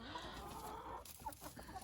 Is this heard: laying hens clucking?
yes